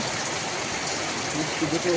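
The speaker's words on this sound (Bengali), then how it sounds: "এদিকে তো বৃষ্টি পড়ছে আর ঐশিকার বাবা" Rain falls outdoors on a monsoon day, a dense, even hiss of drops that holds steady throughout, with faint voices in the background toward the end.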